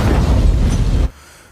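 A bomb carried by a suspicious truck driver detonates in the war film The Covenant, a loud, dense low boom that roars for about a second, then cuts off sharply to a quiet rumbling tail.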